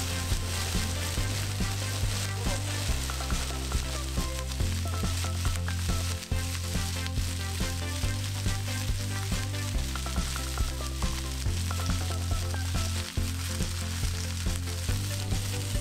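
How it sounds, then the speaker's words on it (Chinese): Tiger prawns frying in garlic butter in a pan over medium heat, a dense, even sizzle that carries on unbroken over a steady tonal backdrop, with no talking. "然之后每边煎佢三分钟嘅"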